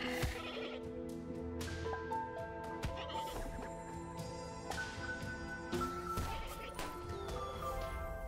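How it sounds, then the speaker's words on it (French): A goat-like bleat from the turtle creature in the dice-based game Dicefolk, repeated bleating calls over a layer of game music with plucked, chiming notes, at moderate loudness. "Il fait une bruit de chèvre, la tortue."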